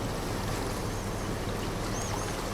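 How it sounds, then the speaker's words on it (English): Water sloshing and splashing in Farming Simulator 22 on the Umbreon Valley map, a steady, dense wash of watery noise that stays constant and fairly close throughout, with no voices. "hear the water slushing and splashing about"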